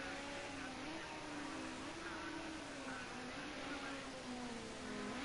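A Ford Sierra Cosworth Group A race car at Bathurst runs down the Conrod Straight, its engine droning steadily at a high, slowly wavering pitch, faint and distant under a constant broadcast-like noise bed.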